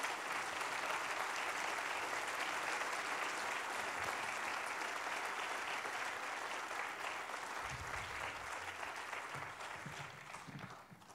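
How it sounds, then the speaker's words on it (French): Sustained applause from an audience at an association meeting, dense and even for around ten seconds before thinning out, with a few low murmurs near the end. "merci et applaudissements"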